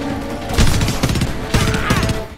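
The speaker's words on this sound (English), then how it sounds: "The gunfire is some of the best I've heard in any game." Gunfire in the video game Homefront, close loud bursts of rapid automatic shots in two clusters with reverberant echo between them.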